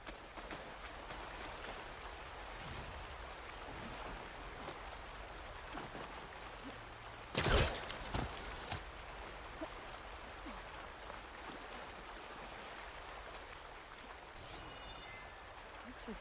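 A waterfall in the video game Horizon Forbidden West gives a steady, dense rush of water throughout, with one brief sharper splash or crash partway through.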